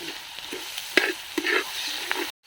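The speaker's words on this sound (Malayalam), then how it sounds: "നന്നായിട്ട് അങ്ങോട്ട് ഇളക്കാം." A spoon scrapes and stirs chilli pork with chilli and tomato sauces in a hot pan, with a steady sizzle under a few distinct scraping strokes, close and fairly loud, then an abrupt cut to silence.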